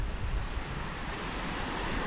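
Calm sea waves wash softly along Pasir Kencana beach on the north coast, a steady low surf rumble mixed with light wind noise and no voices.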